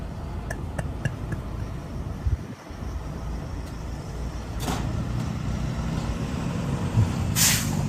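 A bus with air brakes gives a sharp hiss of released air near the end, over a steady rumble of heavy road traffic and idling engines.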